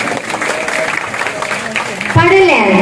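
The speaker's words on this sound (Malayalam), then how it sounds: "കൂട്ടുകാരെ ഒന്നുകൂടെ കൈയടിച്ചേ." An audience claps at the inauguration of a kalajatha, a travelling cultural troupe: steady clapping runs under a loud voice, and singing takes over near the end.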